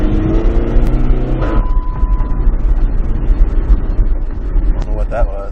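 A loud PT Cruiser engine rumbles close by, its pitch rising briefly as it revs, while voices talk over the running motor.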